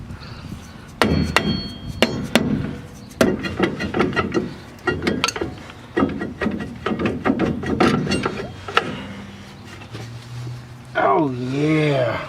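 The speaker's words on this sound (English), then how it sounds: "we're gonna rubber mallet it" Repeated sharp strikes from a rubber mallet on the rear axle parts of a 2000 Dodge Ram 1500 4x4 during a bearing and seal job, knocking in irregular bursts close by, with people talking between and over the blows.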